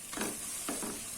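Green chillies with mint and coriander sauté in a pan, a soft sizzle with two or three quick stirring scrapes, quiet and close.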